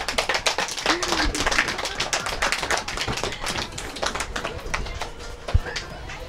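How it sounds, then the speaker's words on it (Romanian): Dense, steady clapping from a small group of people at a surprise flower delivery from a mother to her daughter, close and lively, with a few sharper claps and brief voices mixed in. "Haideți să dăm aplauze"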